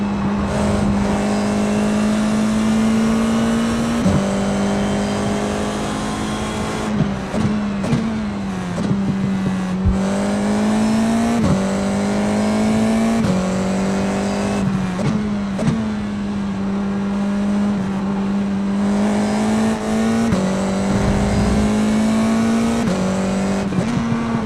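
An F4 race car engine screams around the Hungaroring in a racing game, a loud, steady high-pitched drone close up that drops sharply at each gear change and braking zone, then climbs again as it accelerates, with no talking.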